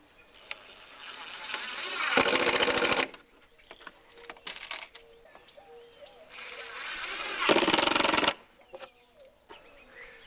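Plywood skin gets tacked down onto a hexagon stand for a 55-gallon drum in two short, loud bursts of rapid mechanical rattling, each about a second long, with quiet birdsong between them.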